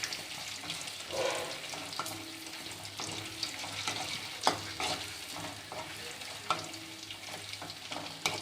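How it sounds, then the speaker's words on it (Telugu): Small boneless chicken pieces for chicken pakodi deep fry in oil, a continuous bubbling sizzle broken by repeated stirring clinks and scrapes, close and moderately loud, with a hint of running water. "మొత్తం అన్నీ ఇట్లా ఫ్రై అవ్వాలి, బ్రౌన్ కలర్లోకి రావాలి."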